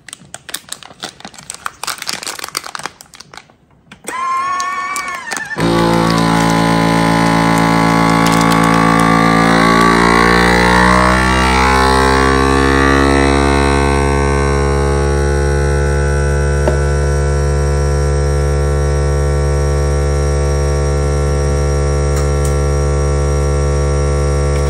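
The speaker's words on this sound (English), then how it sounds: "Food saver vacuum sealer." A FoodSaver vacuum sealer runs steadily and loudly after a few seconds of handling noise, its motor drone holding a constant hum as it seals a bag of ground deer burger.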